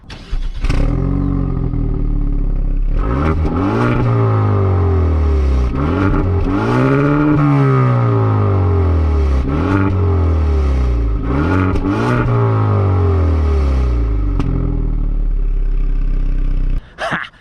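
Genesis G70 Sport Manual with its performance exhaust, revved hard several times in a row, each rising and falling engine sweep loud and close, ending in crackling pops and bangs, then a pause and a final blip.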